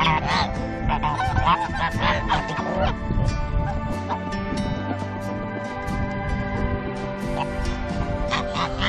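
A flock of farmyard geese honks repeatedly in loud, overlapping calls, close by and busy throughout, with other barnyard noise mixed in.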